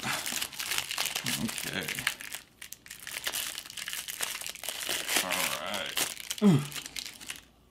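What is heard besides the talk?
unwrapping a deck of board game cards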